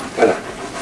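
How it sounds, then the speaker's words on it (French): A big dog pants close by outdoors during a seagull rescue, a brief burst of breathy huffing lasting under a second, heard on its own. "Regarde le grand chien ici."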